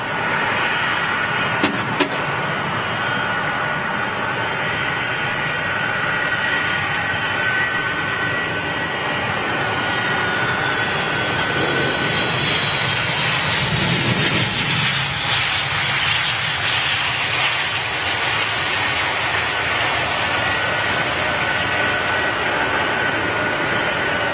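A loud, steady roar of jet aircraft engines at Heathrow Airport fills the whole stretch, holding near and constant with a slow swell and shift in tone, no voices over it.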